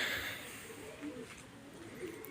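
Pigeons coo softly in a backyard coop, low murmuring calls repeating beneath faint ambient noise and light background chatter.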